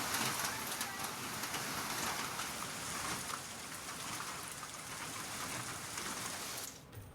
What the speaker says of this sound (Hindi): देश के कई राज्यों में बारिश और तेज हवाएं चली।